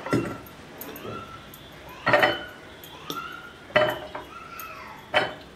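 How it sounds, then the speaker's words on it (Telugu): Lemons dropped into a clean, dried glass bottle, three distinct hollow clinks spaced a second or two apart over quiet room tone, with faint handling rustle between them. "నిమ్మకాయలని వేసుకుందాం"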